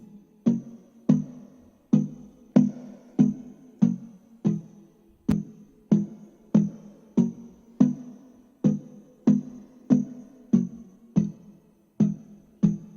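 A Serum bell synth plays basic hyperpop-style chords, struck in a steady, evenly spaced rhythm of about seventeen bright, decaying hits, moderately loud and alone.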